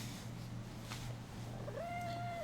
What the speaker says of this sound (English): And here goes my cat.